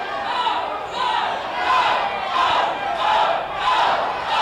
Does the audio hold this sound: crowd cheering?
yes